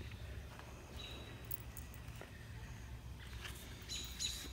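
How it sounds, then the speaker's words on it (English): Bird chirping outdoors on a front porch, with short high tweets near the start and a brighter cluster of calls toward the end over a quiet low background hum. "I've got a bird just chirping right at me"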